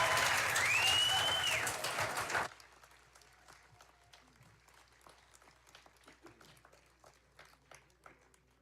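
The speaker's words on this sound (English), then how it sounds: "Applause." Audience applause at the Gerald R. Ford Museum, loud dense clapping for about two and a half seconds with a brief whistle, then cutting to a quiet room with scattered small sounds.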